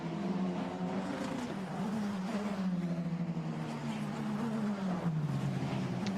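Formula Renault race car lapping in qualifying at Imola, a steady high engine note that sweeps down as it passes, moderately distant and continuous with no speech over it.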